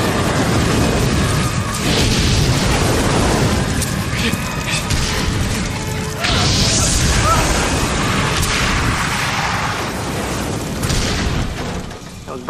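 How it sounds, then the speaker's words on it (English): Artillery bracketing fire from a TV series: a continuous dense roar of deep booms and blasts rolling together, loud and close, with voices mixed into the din. "Bracketing fire, textbook military style."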